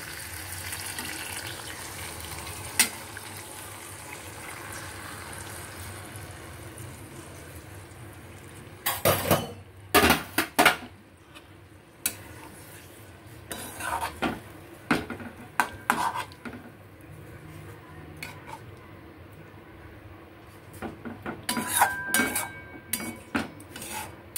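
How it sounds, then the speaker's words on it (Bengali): Mustard paste is stirred into a simmering fish curry, with soft liquid sounds punctuated by clusters of sharp spoon and pan clanks, near and intermittent, quieter stretches between. "বাকিটাকে সেইটাকে আমাকে আস্তে আস্তে করে এই ঝোলের সাথে মিশিয়ে দিতে হবে"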